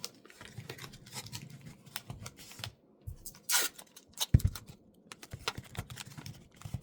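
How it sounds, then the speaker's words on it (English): Masking tape pulled and pressed down over a giant paper sunflower craft, giving a run of close crackling and tearing bursts with soft rubbing and taps between them. "I'm going to cover this with the masking tape all the way"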